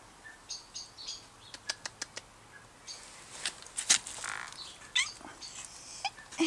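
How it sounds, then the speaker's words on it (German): Indoors with a Bengal cat nearby, a small bird chirps in a string of short, sharp tweets, some quick and evenly spaced, others scattered and louder, against quiet background. "Wo ist das Vögeli?"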